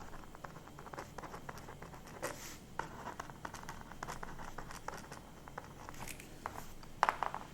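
Pen writing on paper during a travel-planning session, soft scratchy strokes continuing steadily and quietly throughout, with light paper rustles and a few brief sharper taps near the end, no talking.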